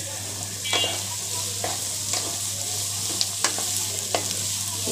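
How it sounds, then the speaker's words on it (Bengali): Onion fries in hot oil for a chicken curry, giving a steady loud sizzle with a few sharp clicks and scrapes of stirring. "পেঁয়াজটা তেলের উপর কিছুক্ষণ ভেজে নিব।"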